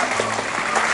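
Children clap their hands together during a king-says game at a Children's Day event, a dense burst of clapping lasting about a second with a faint voice underneath.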